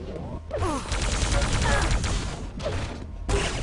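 Railgun blasts and other weapon fire in a Quake match: sharp zapping discharges and rapid gunfire come in quick bursts with short pauses, loud and close.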